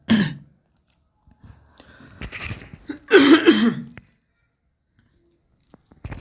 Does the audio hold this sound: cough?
yes